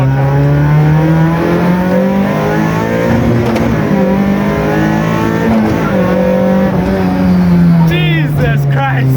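A Toyota AE92 rally car accelerates hard from inside the cabin, its loud engine climbing and dropping through the revs between gear changes, with voices talking over the roar.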